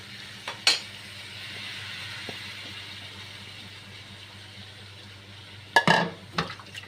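Marinated fish is dropped into a hot pan and fries with a soft sizzle, with a few brief clatters of a utensil against the pan at the start and near the end.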